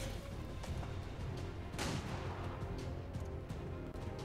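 Rupture shot fired in XCOM 2, a heavy burst of gunfire cracking out around the two-second mark against a dense, noisy game background.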